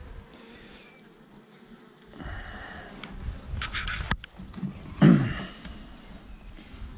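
Honeybees at a hive just given a virgin queen, a steady close buzzing hum with a louder swell in the middle and a few brief knocks, no voices.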